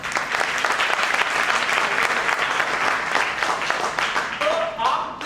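An audience at a network marketing training seminar breaks into loud, sustained applause: dense, continuous clapping from a large crowd that holds steady for several seconds and then begins to thin.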